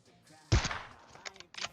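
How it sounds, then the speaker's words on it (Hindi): Sniper rifle gunshot in the mobile battle royale game PUBG Mobile: one sharp loud crack followed by a decaying tail, then a few fainter pops and clicks. "और शॉट मिस हो जाता है"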